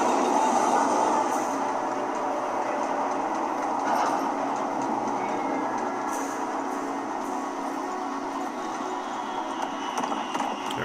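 A tram in the video game Pragmata rolls along with a steady, loud rumble and rhythmic rail clatter that continues unbroken for the whole stretch, with no talking.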